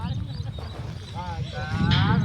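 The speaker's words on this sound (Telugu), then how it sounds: "ఇక్కడ వైట్ ఎద్దులు ఉన్నాయి కదా" Cattle, including white bullocks, low and moo in a noisy outdoor village setting, with a rising call near the end over steady background rumble and some voices.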